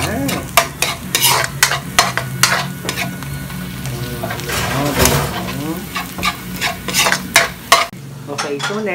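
Ingredients for Ilonggo-style Valenciana sauté in a pan with a continuous sizzle, broken by frequent sharp clinks of a utensil stirring against the pan.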